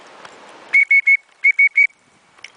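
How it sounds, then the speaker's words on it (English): Six sharp, loud blasts of a bear whistle, blown close up during a hike in Wyoming: three quick toots, a short pause, then three more, each a piercing tone with faint breath and footsteps around them. "I have my bear whistle just in case"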